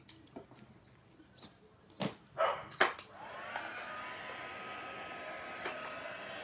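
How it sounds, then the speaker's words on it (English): A few scattered knocks and taps give way to a heat tool switching on and blowing a steady, close whirring rush over alcohol inks on a greeting card, holding evenly to the end. "so I'm going to move that around with my heat tool"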